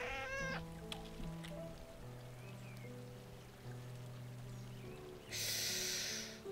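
A stray cat in a video game meows several times over a steady, looping game soundtrack, with a brief louder burst of rain-like hiss near the end.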